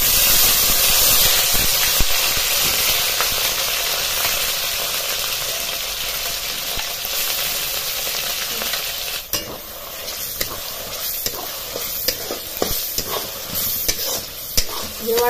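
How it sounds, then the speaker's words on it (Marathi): Masala paste fries and is stirred in hot oil after mustard seeds and cumin have gone in, giving a loud, steady sizzle close by, with scraping stir strokes becoming more frequent toward the end. "हे वाटण आहे सारखं हलवीत राहायचं"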